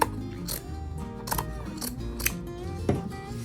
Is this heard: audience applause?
no